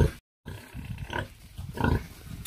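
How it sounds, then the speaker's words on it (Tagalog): Piglets nursing from a sow on a pig farm, a close chorus of low rhythmic grunts and snorts with short squealing bursts, repeating steadily throughout. "Ito nga, dumidede pa sila sa inahing baboy."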